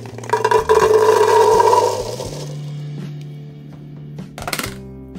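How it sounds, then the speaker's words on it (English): Rinsed cranberries are emptied into a large pot on a stove: a short, loud clattering rush of berries tumbling into the pot, followed by a low hum and a few small knocks. "next I'm going to empty our cranberries in."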